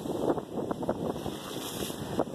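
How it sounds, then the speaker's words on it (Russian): Ocean waves surging around a small island, with rough roaring water and heavy wind buffeting the microphone, loud and continuous over a short stretch. "Смотрите, какие волны здесь захлестывают."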